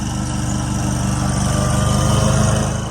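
A string trimmer runs steadily during yard work, its small two-stroke engine droning loud and close with an even buzzing hum that holds for about three seconds without a break.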